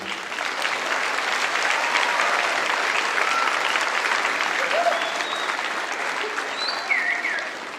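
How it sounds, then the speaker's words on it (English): Full, steady applause from parents and family in a school auditorium for sixth-grade band students, a dense wash of clapping with faint cheers and whistles on top, easing near the end. "Give them a round of applause"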